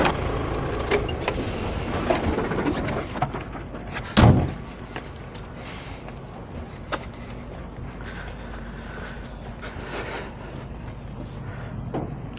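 Trailer slider pins on a fifth-wheel truck shoot into their locked position with a single heavy metallic thud, set against a constant low engine idle and light rattles.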